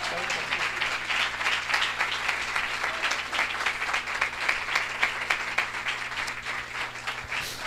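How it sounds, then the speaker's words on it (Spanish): Congregation applauding during a Spanish-language missionary church service, a steady dense wash of clapping lasting throughout with a low hum underneath. "Si le va a dar ese aplauso, déselo al Señor"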